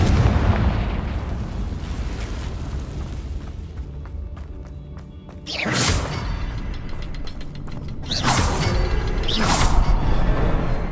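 Confringo fire spell bursts in the video game Hogwarts Legacy, three loud booming explosions over a constant rumbling game background, with no talking.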